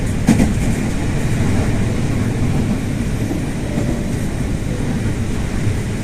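Inside a Chinese-built commuter train on the Duren Kalibata to Bogor line, a steady rumble and rattle of the moving carriage continues throughout, close and even, with no talking.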